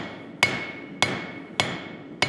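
A hand hammer strikes hot metal on a blacksmith's anvil while forging a taper, four sharp ringing blows at an even, unhurried pace with a sustained metallic ring after each, loud and close with no talk.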